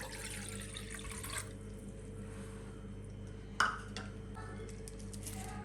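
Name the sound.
tender coconut water poured into a saucepan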